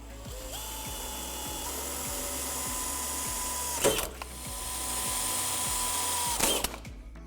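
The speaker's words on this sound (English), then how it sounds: "using the center punch, drill the holes out" A power drill whirring steadily at close range, drilling holes in a metal hood strut bracket on a Ford Mustang, with a rhythmic mechanical clicking underneath and two sharp metallic bursts as the bit bites in.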